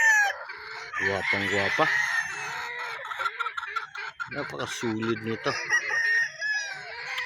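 Quality roosters at a Bicol chicken farm crow and cluck close by, with several clear crows early and more in the middle, while someone speaks over them.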